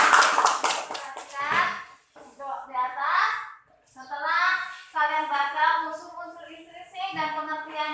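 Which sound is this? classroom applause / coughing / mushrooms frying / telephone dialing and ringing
classroom applause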